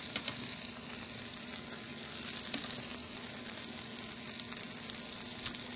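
Shrimp cooking in a hot pan, a constant bright sizzle holding at an even level throughout, with no voices over it.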